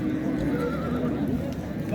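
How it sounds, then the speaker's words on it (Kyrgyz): A Kyrgyz horse at a horse market in Nookat neighs in a loud, close, drawn-out whinny, with voices and market noise underneath. "кыргыз жылкысы турат."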